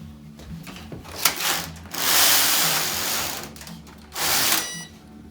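Passap E6000 knitting machine knitting rows, its carriage swept back and forth in long rasping, clattering passes with short pauses between, close and moderately loud, no speech.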